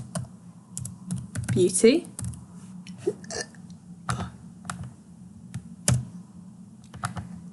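Computer keyboard typing clatters in short bursts of close clicks while a person keeps talking over it.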